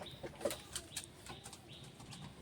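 A fancy pigeon beats its wings in a quick series of soft, close flaps and flutters, faint and brief, with no voice over it.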